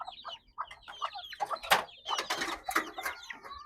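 Livorno and bantam chickens cluck and chatter nearby in a dense run of short calls, one bantam having a cold, with no talking.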